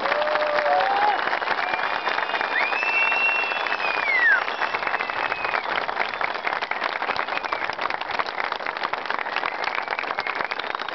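A crowd at a democracy vigil in Muğla's Cumhuriyet public square applauds continuously for several seconds, a broad, rain-like wash of clapping with faint whistles or cheers rising briefly through it.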